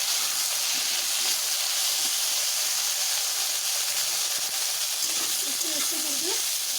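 Okra (bhindi) fries in a pan with salt and a pinch of turmeric, giving a continuous, even sizzling hiss close by with faint stirring underneath.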